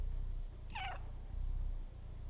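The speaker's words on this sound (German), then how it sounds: "Oh, das Schnurren!" A cat in the video game Stray purrs in a steady low rumble through the whole moment, with a brief meow-like cry and a couple of faint chirps above it.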